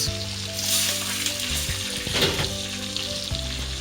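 Irish beef steak sizzles steadily in a hot pan, a close, continuous frying hiss with brief crackles, heard alone under faint background music.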